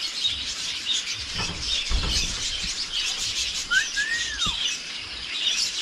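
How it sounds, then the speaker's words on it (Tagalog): A pet bird calls near a hut on a cold morning, giving a few scattered chirps and one clear rising-then-falling whistle over steady, faint background noise. "Nagsalita naman yung ibon natin na ibon"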